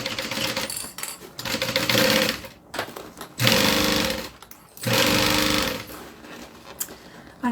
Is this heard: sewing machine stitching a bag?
yes